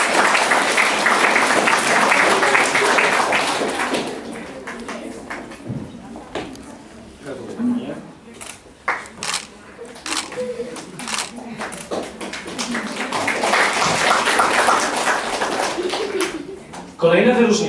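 Applause at a Polish award ceremony for a youth literary contest, loud sustained clapping from the audience at the start, fading under scattered sounds in the middle, then swelling again into a second full round toward the end.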